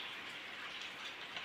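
Steady rain falling over a village, a continuous even hiss of drops without pause or talk throughout.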